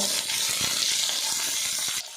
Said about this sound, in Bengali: পেঁপে আর আলুটা বেশ করে ভাজা ভাজা করে নেব।